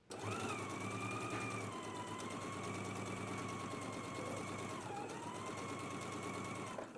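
A sewing machine stitches steadily along the lower edge of a pants pocket, a continuous close whirring hum with a faint rapid needle rattle throughout, no talk.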